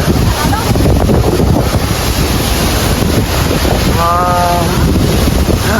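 Strong rushing water at Lake Sebu, loud and constant, churning and splashing with heavy wind buffeting the microphone throughout and a brief tonal whine partway through.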